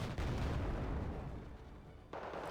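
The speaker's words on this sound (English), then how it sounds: "That's a decent auto cannon." Autocannon fire in the real-time strategy game Wargame: Red Dragon, a dense stream of rapid booming shots rolling together at high volume, easing briefly before another burst.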